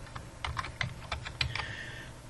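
Keys clack on a computer keyboard while typing in Excel: a quick, irregular run of about a dozen light taps, close and quiet, with no talk.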